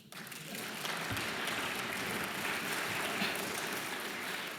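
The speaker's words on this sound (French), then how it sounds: "On peut applaudir." Conference audience at a professional congress breaks into applause, a broad sustained patter of many hands clapping at moderate distance with no talk over it.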